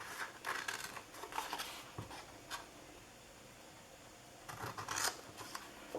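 Scissors cutting paper to make a snack-cake treat box, a handful of soft, quick snips and rustles in short bursts, faint and close in a quiet room.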